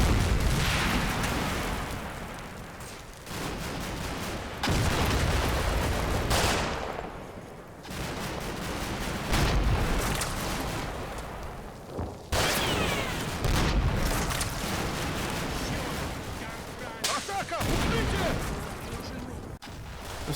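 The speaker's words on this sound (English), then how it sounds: "The building where the platoon commander is housed is hit by BMP fire" BMP autocannon fire striking a building in the Combat Mission: Black Sea war game, with loud repeated bursts, booms and impacts over about twenty seconds and a voice speaking between them.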